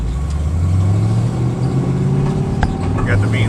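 A Pontiac GTO accelerates in gear during an informal drag race against another GTO, its engine drone steady and loud throughout, with a voice talking over it.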